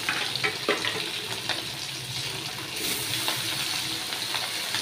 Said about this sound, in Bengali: আর এক এক করে মাছগুলো ছেড়ে দিচ্ছি